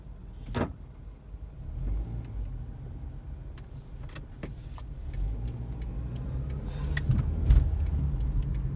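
Cars on the road around Pelletier and Peck Road, a steady low rumble of traffic from inside a vehicle with occasional clicks and thumps, no talk.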